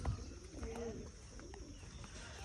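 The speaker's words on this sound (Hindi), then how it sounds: "कबूतर वगैरह हैं।" Pigeons coo softly on a farm amid steady background hiss and low rumble, a couple of faint drawn-out coos rising briefly above the noise.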